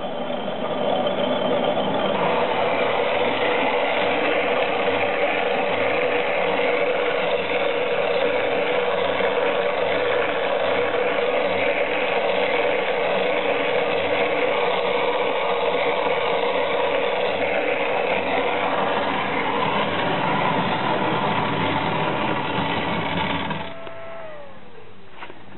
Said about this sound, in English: this is the version 2 grinder, working quite nicely